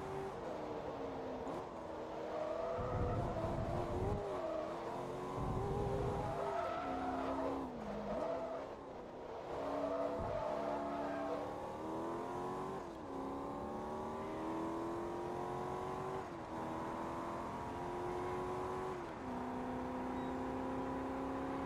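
A Corvette in a Forza Motorsport 2 touring cup race, its engine droning and revving up and down through gear changes with tires squealing and skidding, loud and continuous throughout.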